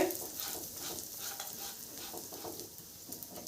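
Ingredients for basanti pulao fry and get stirred in a pan, a continuous soft sizzle with scraping stir strokes, moderately close and steady throughout.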